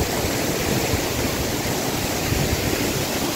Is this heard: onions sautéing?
no